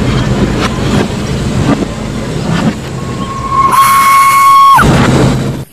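Chugging Thomas toy train sounds with rhythmic puffs, then a loud steady steam whistle toots for about a second before cutting off.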